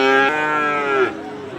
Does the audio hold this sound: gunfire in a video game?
no